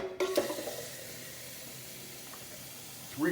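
Water is poured into a pot of tomato sauce on the stove: a brief splash at the start, then a faint, steady hiss and simmer.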